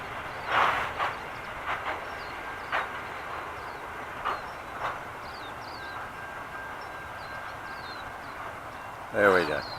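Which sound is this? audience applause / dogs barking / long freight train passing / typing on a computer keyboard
long freight train passing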